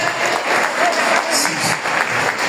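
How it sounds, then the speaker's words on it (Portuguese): A church congregation applauds during an evangelical worship service, a loud, dense, steady clapping that fills the room from start to finish. "Mas palmas é para o Senhor Jesus, não é para o homem"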